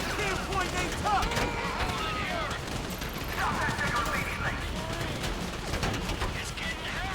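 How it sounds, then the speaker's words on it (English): Sustained gunfire from a Grand Theft Auto V shootout, dense bursts and scattered shots crackling steadily throughout at close range, with characters' voices calling out over the din. "hear that gunfire?"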